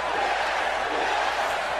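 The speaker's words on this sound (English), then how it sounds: "The crowd encouraging her on." Wrestling crowd at a triple threat elimination match cheering as a steady, dense wash of voices, continuous and fairly loud throughout, with no distinct single voice standing out.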